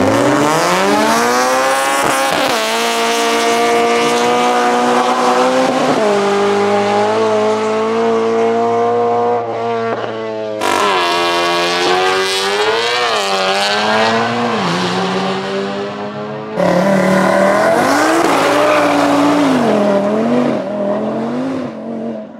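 Audi RS3 race car engine accelerating hard through several gears, loud rising wails broken by sharp shifts, with wheelspin as grip is lost, close and continuous.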